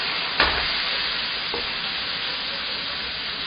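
Meat sizzling in a wok with soy sauce and rice wine gives a steady, close frying hiss, broken by a couple of brief stirring knocks.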